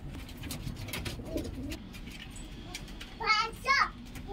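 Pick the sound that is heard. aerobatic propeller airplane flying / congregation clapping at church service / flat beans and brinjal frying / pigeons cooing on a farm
pigeons cooing on a farm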